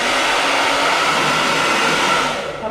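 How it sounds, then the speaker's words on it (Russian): A powerful hair dryer in a hotel room in Kemer, Turkey, blows steadily with a loud, constant whooshing hum that barely wavers, then dips slightly near the end. "Хороший, мощный фен."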